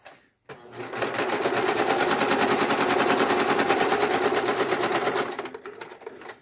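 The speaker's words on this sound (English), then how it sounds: "I'm just going to sew this along the very edge to close up this seam." A sewing machine runs fast and steady along the very edge of a face mask seam, a close, continuous mechanical rattle lasting about five seconds before it stops.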